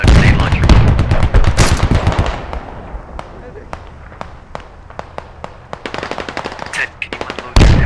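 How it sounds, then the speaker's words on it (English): Grenade launcher and automatic weapons fire rapidly in a squad video game firefight, loud sharp bursts of repeated shots with a brief sparser stretch of single reports before heavy fire resumes, players talking over it. "It's the grenade launcher."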